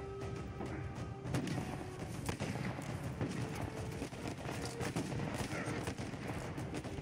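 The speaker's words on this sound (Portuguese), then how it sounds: "Essa arma aqui é um tiro, essa pistola." Pistol gunfire in the video game Uncharted 4, a rapid string of sharp shots and impacts over a dense, busy combat soundscape, steady and fairly loud throughout.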